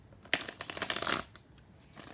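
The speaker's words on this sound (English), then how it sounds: "Let's do one more shuffle." A deck of tarot cards gets a single quick riffle shuffle, a close, crisp flutter of card edges lasting about a second, then quiet.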